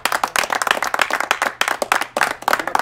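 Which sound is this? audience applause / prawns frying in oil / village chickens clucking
audience applause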